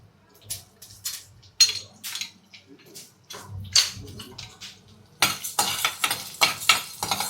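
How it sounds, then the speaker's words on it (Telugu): Coriander seeds are fried in a little oil in a pan, heard as intermittent close scraping and stirring clinks with faint sizzling, followed by a denser crackling sizzle near the end. "ధనియాలు వేపుకుందాము ఈ ఆయిల్లో."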